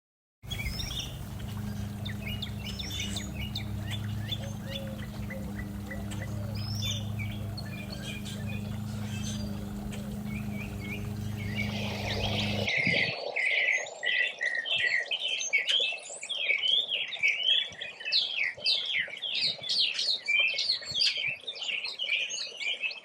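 A mockingbird mimics squeaky equipment like a swing set or farm machinery, giving rapid, repeated high squeaks and chirps close by. A steady low hum runs underneath for the first half, then the calls continue alone, dense and loud.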